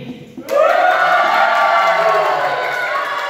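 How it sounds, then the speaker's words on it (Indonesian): A crowd of students in the left stand at a pesantren student debate erupts into loud, sustained cheering and shouting that starts abruptly and holds steady to the end. "Kita cek suara penonton di tribun kiri."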